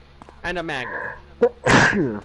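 A single sharp, loud sneeze bursts out right after a man's speech, standing alone for a moment at the end.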